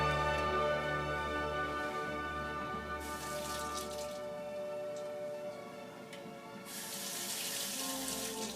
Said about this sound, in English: Grab your strawberry, wash it off.